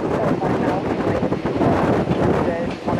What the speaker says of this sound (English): Wow, where'd that wind come from?